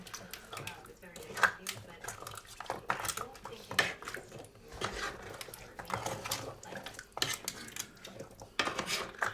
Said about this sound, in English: So I'm going to just stir it as best as I can, just to get everybody all hanging out together and mixed in pretty well